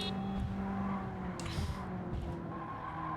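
Stock Mazda Miata in a driving video game, a steady engine drone with a brief tire skid and squeal partway through, close and continuous.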